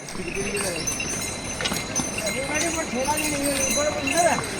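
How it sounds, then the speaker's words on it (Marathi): Horse hooves clip-clop steadily along a rough mountain path on the route to Yamunotri, close by, with a person talking over the walking. "हे बघा अशा रस्त्याने आपला घोडा चालतो"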